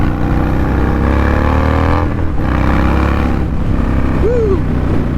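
An Indian Chief motorcycle pulls hard in third gear, its engine note climbing in rising sweeps, loud and close with constant wind rush.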